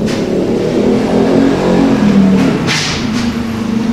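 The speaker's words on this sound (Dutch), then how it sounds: "terwijl de motoren hier volop van de zonnige zondag genieten" Motorcycles rev and pass by outdoors on a sunny Sunday, a steady loud engine drone with a rising sweep partway through, heard without speech.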